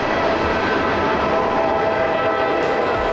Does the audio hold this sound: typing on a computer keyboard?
no